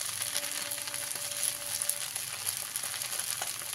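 Pasta and mixed vegetables frying in a pan for a spicy egg pasta, a steady soft sizzle and crackle running throughout with faint scraping now and then, no voices.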